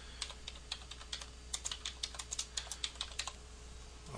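Keys clatter on a computer keyboard as names are typed in, a steady run of quick, crisp clicks close by with no talking, over a faint low hum.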